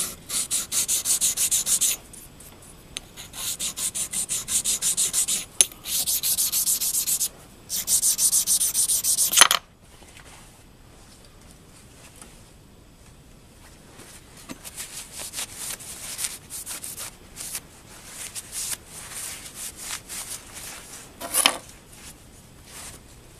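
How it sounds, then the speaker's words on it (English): A sharpening stone rubs across metal, cleaning off a burr inside a V groove on a Bridgeport mill part, in several rhythmic scraping bursts up close, followed by quieter, sparser strokes and light taps. "just cleaning off that burr with the stone."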